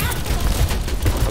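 D.Va's small pistol firing in rapid succession in Overwatch 2, a brief run of snappy shots close up over game noise.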